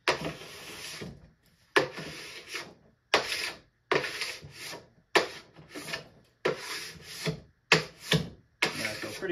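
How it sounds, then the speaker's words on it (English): Plastic scraper drawn along a snowboard base, lifting already-loosened wax and debris in a final pass: repeated rasping strokes, about eight close scrapes with short pauses between, no talking. "Right now I'm picking up mainly a lot of just debris and wax that's already been scraped."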